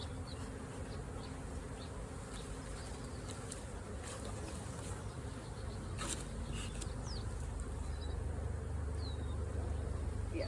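Honey bees buzz around an opened hive during an inspection, a dense, close, continuous hum with occasional louder passes of individual bees.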